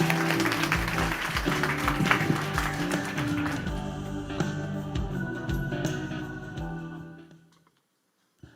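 A church congregation at a Sunday afternoon worship service applauds steadily for several seconds, the clapping thinning and fading out toward the end.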